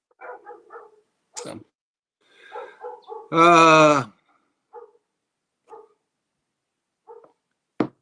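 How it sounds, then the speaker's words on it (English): A neighbor's dog gives one loud, sustained bark-howl lasting about a second, mid-distance, between short stretches of people talking before and after it. "your neighbor's dog is back."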